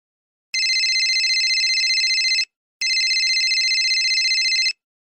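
A telephone rings for an incoming call, two long electronic trills separated by a brief gap, loud and clear with no voices.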